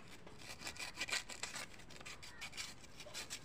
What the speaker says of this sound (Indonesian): Untuk angkernya kotor ya, kita amplas seperti ini.